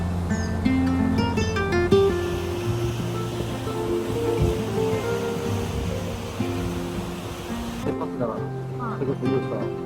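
Sea waves wash steadily along a coastal trekking trail on the Haeparang route's first course, a continuous loud surf with voices heard over it.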